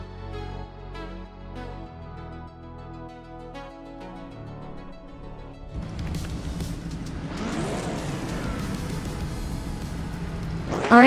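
A Group 4 video game race at Brasilia, led by a 1970 Ford Mustang Boss: a tonal, music-like passage gives way to a rising roar of engines that grows louder, ending in a sharp loud burst.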